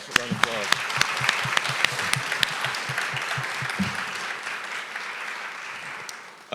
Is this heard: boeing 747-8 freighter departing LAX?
no